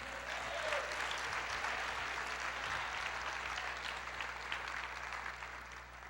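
Church congregation applauding during a Portuguese-language sermon, a dense sustained wash of clapping hands filling the room steadily from start to finish, fairly loud with no speech over it.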